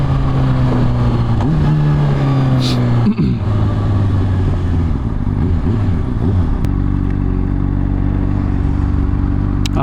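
Honda CBR600RR motorcycle engine droning and shifting pitch while riding, with steady wind noise throughout; a rider's voice talks over the engine.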